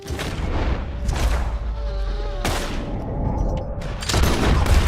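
Gunfire in Red Dead Redemption II, with several loud broadband shot bursts spaced across a few seconds over a steady game background, a fresh heavy blast arriving near the end.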